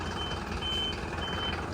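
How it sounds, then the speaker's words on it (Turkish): Truck pulling away with its reversing alarm sounding, steady evenly spaced beeps faint over loud engine rumble and outdoor noise. "O kamyonu alırsalar iyi olur. Kamyonun biri gidiyor."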